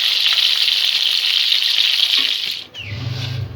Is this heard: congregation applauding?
no